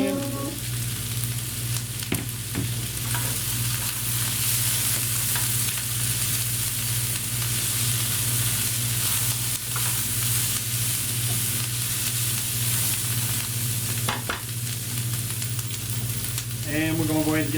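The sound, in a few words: stir frying cabbage and peppers with chicken in a pan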